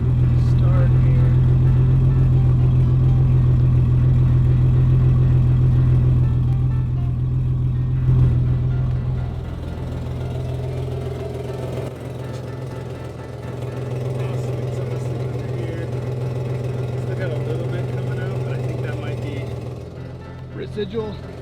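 The engine of a patina'd BMW E28 runs at idle as a steady, loud, low rumble that dips slightly partway through and settles into an even idle.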